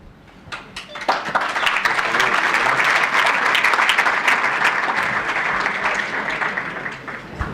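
Audience applause at a press conference, a dense burst of many hands clapping that swells quickly, holds loud and steady for several seconds, then tapers off near the end.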